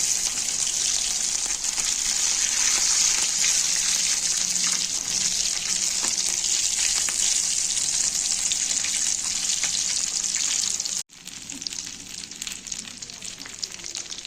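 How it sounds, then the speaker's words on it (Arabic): Sausage frying in a pan, a loud, close, continuous sizzle and crackle of hot oil that cuts out briefly near the end and resumes slightly quieter, with no talking. "كده بقى احنا بنحمر السجق اهو"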